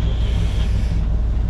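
A sailboat motors at sea under engine power, giving a close, steady low rumble mixed with wind and water noise for a brief moment.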